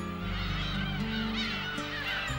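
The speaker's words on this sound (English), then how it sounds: "The most common bird is, of course, the seagull." Seabirds, seagulls among them, call on Bird Island in a steady, honking clamour that overlaps closely throughout, sounding near and loud with no speech.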